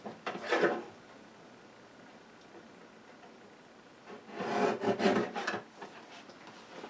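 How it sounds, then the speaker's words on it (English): A paper card top for a daisy wreath card is trimmed, with two bursts of close rubbing and scraping from the cutting separated by a quiet pause. "I just trimmed 1/8 of an inch off so it wouldn't look so weird at the top"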